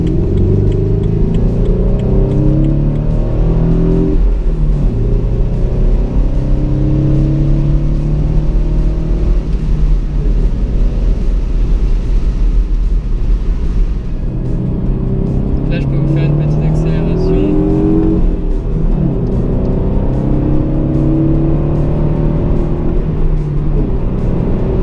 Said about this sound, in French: vous allez pouvoir apprécier le petit bruit sympa de la voiture